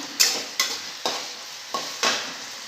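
Ginger-garlic, tomato and onion paste frying in hot oil, with about five sharp spoon-scraping stirs breaking through a steady, close sizzle.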